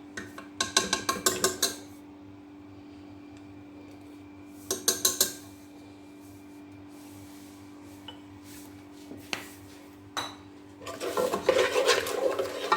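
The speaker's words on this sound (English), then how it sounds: "and we stir together" Nkwobi being stirred with ogiri locust beans in a pot, with bursts of scraping and clinking of a spoon against the pot in short clusters separated by quieter pauses, close and fairly soft.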